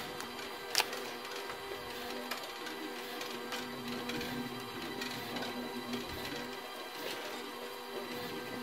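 A labeling machine for scratch-off lottery tickets runs with its conveyor feed, giving a steady mechanical whirr and rattle with occasional sharp clicks and a louder clack near the start.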